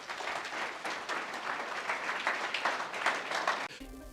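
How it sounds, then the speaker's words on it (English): Audience applause at a business talk event, a dense, lively burst of many people clapping close by that runs for several seconds before cutting off abruptly near the end. "Give yourselves a clap."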